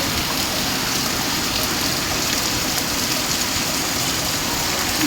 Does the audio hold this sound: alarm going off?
no